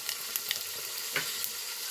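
Mung dal and black cumin hitting hot oil on a lowered flame, giving a steady, dense sizzle with small crackling pops throughout, close and moderately loud with no voices.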